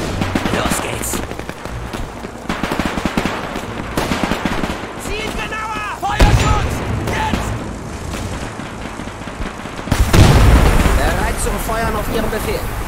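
Gunfire and artillery rattle through a World War II real-time strategy battle in Men of War II: dense machine-gun bursts and scattered shots, with heavier booms and a sudden loud surge near the end, while commands are shouted over the fighting.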